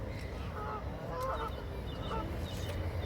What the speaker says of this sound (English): There's loads of geese down here, man. It's all you can hear.